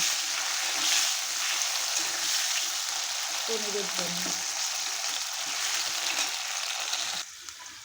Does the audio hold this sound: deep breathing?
no